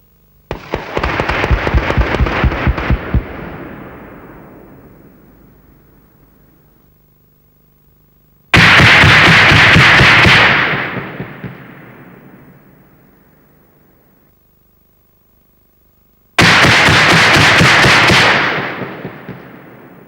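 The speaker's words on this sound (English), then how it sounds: "It was fired at dismounted infantry dummies. Now, the replay from the target area." Bofors 3P programmable ammunition rounds detonating in time-fuze mode over a target area of dismounted infantry dummies, heard as three separate loud blasts, each a rapid crackling burst of several detonations that rolls and fades, with no talk.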